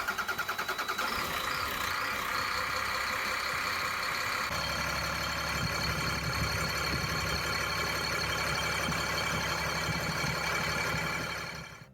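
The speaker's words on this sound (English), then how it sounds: "Let's fire the engine up again and make sure that nothing is leaking." A big bus engine starts and runs with a steady, rough rumble, settling into a lower, heavier idle partway through and knocking on without pause.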